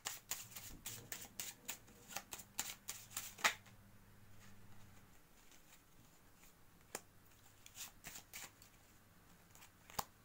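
Small game cards shuffled and handled from a card game, a run of crisp riffling flicks and snaps in quick bursts, then sparser taps, fairly close with a low hum underneath.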